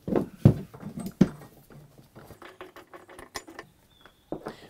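The pulley is worked off a large hover mower with a few close metallic clunks and knocks, then quieter scraping and rattling, in irregular bursts.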